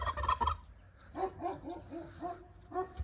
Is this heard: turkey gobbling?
yes